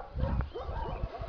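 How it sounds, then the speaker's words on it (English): Neighbourhood dogs barking in a suburban area, several overlapping short barks and yelps in quick succession, fairly close and loud against a busy outdoor background. "the usual dogs can be heard"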